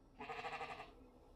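A goat bleats once in an advertisement, a short wavering cry lasting under a second, clear and fairly close against a quiet background.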